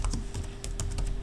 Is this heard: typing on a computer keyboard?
yes